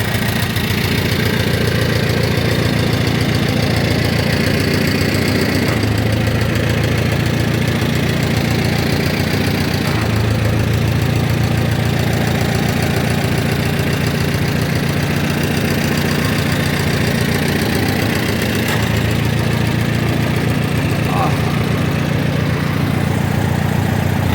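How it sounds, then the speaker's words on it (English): An Allis Chalmers WD tractor engine idles steadily just after starting, a loud, continuous low rumble with a slight knocking pulse that carries on unbroken, with no one speaking. "Fired right up for me."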